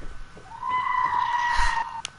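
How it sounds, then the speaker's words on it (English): A real goat lets out a single loud, drawn-out screaming bleat that wavers and rises before cutting off sharply, heard alone and close. "the screaming goat is actually a real goat"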